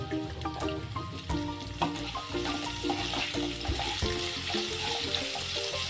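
Onions with a pinch of salt sautéing in hot coconut oil for an egg curry crackle and sizzle steadily at close range, with no one speaking.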